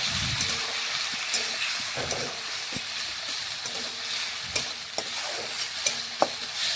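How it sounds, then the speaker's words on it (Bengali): Spice paste and onions for a mutton curry fry in a pan while being stirred. A steady sizzle runs throughout, with repeated scraping strokes and sharp utensil knocks against the pan, heard up close. "এখন নাড়াচাড়া করে ভালোভাবে মিশিয়ে নিচ্ছি পেঁয়াজের সাথে মশলা।"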